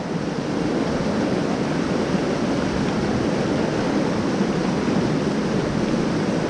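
Continuous broadband wash of wind-driven waves on water during fly fishing for trout in bad weather, steady and fairly loud with no voices.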